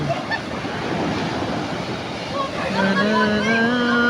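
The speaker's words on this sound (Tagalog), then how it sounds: "Malakas yung alon." Heavy surf on the Zambales coast in the Philippines roars and churns with gusts of wind buffeting the microphone, and a droning motor hum joins partway through.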